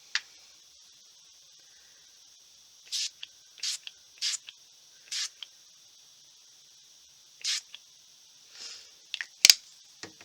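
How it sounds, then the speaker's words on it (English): A series of short hissing sprays from a Brutus Monroe Chroma Mist spray bottle, spraying into a trash can, about eight quick bursts spaced irregularly, close and clear against near silence. "I always spray off in the trash can first"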